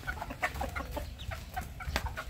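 A hen clucks repeatedly in short, uneven bursts, close by, with soft farmyard background noise.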